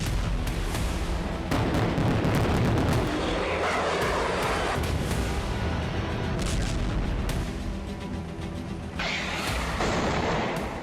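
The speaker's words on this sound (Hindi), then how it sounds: "असद सेना और पुतिन की फौज विद्रोही गुट के लड़ाकों पर भीषण बमबारी कर रहे हैं।" Heavy bombardment in Syria as Assad's army and Russian forces shell rebel fighters near Homs: dense, continuous booming and rumbling blasts overlapping one another for the whole stretch, loud and sustained with sharper bursts layered on top.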